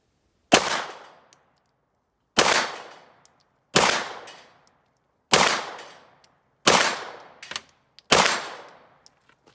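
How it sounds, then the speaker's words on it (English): Six pistol shots at steel plates on a plate rack 25 yards downrange, each a sharp loud crack with a quick ringing clang from the struck steel, evenly spaced about 1.5 seconds apart with silence between. "I'm going to shoot the plates and just see how it feels just right off the bat."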